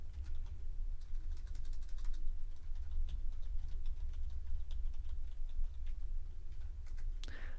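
A passphrase typed on a computer keyboard during a Linux SSH key setup, a steady run of quiet, close key clicks over a low background hum, ending with a slightly harder final tap.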